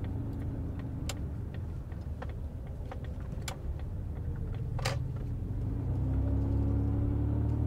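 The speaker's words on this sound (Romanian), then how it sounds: "Tot sunetul ăsta de joacă cu schimbătorul e ceva complet aparte." Gear shifter being worked inside a 1990 Jaguar XJ40 Sovereign, with scattered clicks and clunks of the lever over a steady low engine rumble that grows slightly toward the end.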